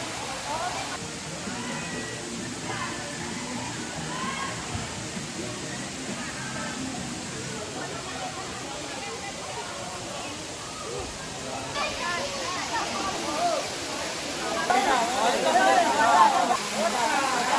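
At Batlag Falls in Tanay, Rizal, falling water makes a continuous broad rushing wash that swells slightly louder near the end, with faint voices murmuring in the background.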